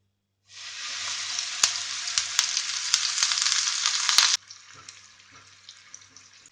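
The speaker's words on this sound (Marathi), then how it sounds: "कांदो आमकां बरो परतून घेवपाक जाय, तळसून घेवपाक जाय।" Onion paste hits hot oil with a sudden loud hiss that sustains for several seconds with sharp spoon clicks, then drops abruptly to a quieter sizzle, close up with no talking.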